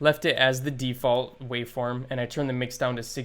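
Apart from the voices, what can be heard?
None of the usual background noises is heard.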